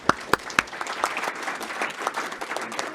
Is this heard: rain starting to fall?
no